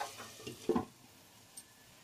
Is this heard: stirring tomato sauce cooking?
yes